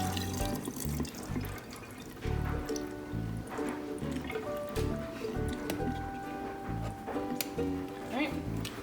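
Tap water runs over canned beans being rinsed for chili, with a steady splashing and dripping trickle. Soft squishing comes from the beans, and at times there are faint bumps and clatter.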